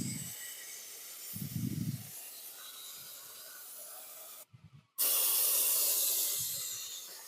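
An airless sprayer at over 3,000 PSI sprays concrete densifier in a loud, continuous hiss that cuts out briefly and then resumes at full force, with a few low thumps along the way.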